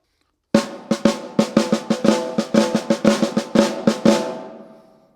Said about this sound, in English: if I turn on the snares so that they're pulled up tight against the head, it sounds like this.